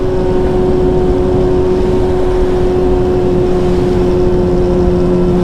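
A Yamaha R6 sport motorcycle engine held at high, near top-end revs, giving a loud, steady, buzzing drone that stays constant with no pauses and no voices.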